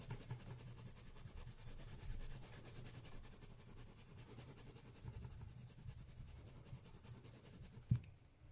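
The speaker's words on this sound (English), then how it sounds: "you're burnishing all of the tooth out of the paper" A burnisher pencil rubs steadily across toothed drawing paper in close, soft scratchy strokes, with a small click near the end.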